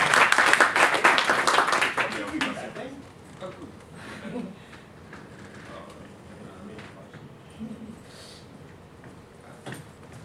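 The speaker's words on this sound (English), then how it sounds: "Please give an applause." At a GUADEC 2015 open-source software conference talk on PulseAudio, an audience applauds with dense, loud clapping that fades after a few seconds into quieter room noise with scattered taps and faint voices.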